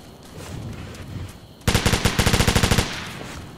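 Automatic gunfire in the Operation Flashpoint: Dragon Rising video game: a loud, close burst of rapid shots about a second long, then a short pause and a longer rapid burst, over quiet game ambience.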